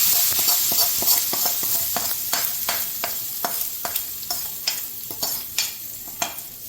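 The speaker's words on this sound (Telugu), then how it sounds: "ఇప్పుడు ఈ ఆవాలు ఇంగువ ఏదైతే మనం పోసుకున్నాం దాన్ని పచ్చడిలో పోసుకుందాం." Mustard seed and asafoetida tempering poured into a tomato chutney, with a steady close sizzle of hot oil broken by repeated short clicks and stirring strokes against the pan, no voices.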